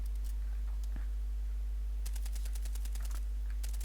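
Bursts of rapid gunfire crackle in short volleys with pauses between, over a steady low hum, with no voices.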